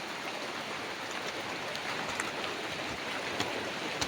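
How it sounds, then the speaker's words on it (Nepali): A downpour of heavy rain falling outdoors where goats are kept, a constant wash of dense drops with occasional sharper spatters standing out, no one speaking. "यति ठुलो पानी पऱ्यो यार।"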